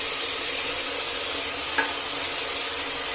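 Ground spice paste fries in oil in a pan for egg biryani, a steady close hissing sizzle with a faint stir of a spoon partway through, no voices.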